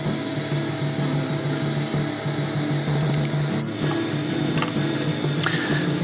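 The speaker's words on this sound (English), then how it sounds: "Now it's time to sew the main seam" A sewing machine runs steadily through the main seam of a DIY rollup bag, a continuous close mechanical hum with a regular stitching rhythm and a few brief clicks, no voices.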